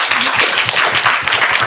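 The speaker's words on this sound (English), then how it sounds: "I'd like some applause for the panel who've worked remarkably well." Audience applause for a panel at the close of a Race & Power debate, a steady patter of many hands clapping close by that fills the short stretch without any talk.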